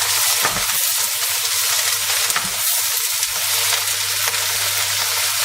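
Endives sizzling and frying in a hot pan as they are stirred, a steady loud crackling hiss with soft scraping stir sounds throughout, no voices.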